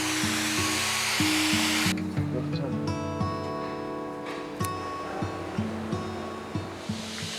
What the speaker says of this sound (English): We got a couple drills down here